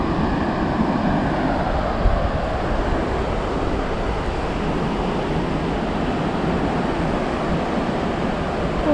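Ocean surf on a South Carolina beach makes a continuous, loud, wind-blown roar of breaking waves, with no voices.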